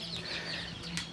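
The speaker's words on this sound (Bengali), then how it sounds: "যে মুরগিগুলো দেখা যাচ্ছে এগুলো ফার্মি মুরগি" Fayoumi chickens on a small farm cluck and chirp in short, soft bursts over faint background noise, with no talking.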